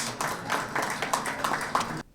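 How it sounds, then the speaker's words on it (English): Audience applause for Miss Lebanon Australia at a live event, many hands clapping in a dense burst with a few sharper claps on top, stopping abruptly near the end. "Give her a round of applause."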